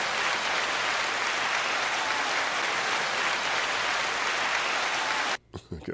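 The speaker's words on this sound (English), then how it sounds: "9 second applause to them." A studio audience gives a sustained burst of dense clapping for several seconds that stops abruptly near the end, followed by a few faint sounds.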